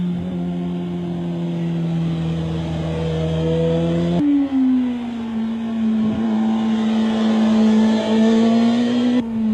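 Motorcycle engine droning steadily while the bike is flicked over into a turn, loud and close with a strong tonal hum that shifts pitch between two sustained passes.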